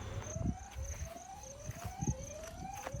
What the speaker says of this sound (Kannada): ಕಳ್ಳರು ಬಂದರು ಅಂತ ಹೊಡ್ಕತೈತೆ ಅದು ಸೈರನ್